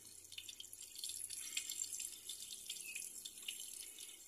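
Water poured over the potting mix of an aglonema snow white plant and draining out of the pot, a soft continuous trickle and splatter with small dripping bursts, close and quiet.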